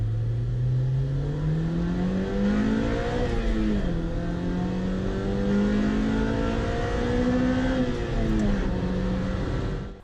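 A 2000 Honda Civic Type R EK9 with its B16 engine revs hard through the VTEC crossover, the engine note climbing steadily, dipping at shifts and climbing again, loud and close from inside the car.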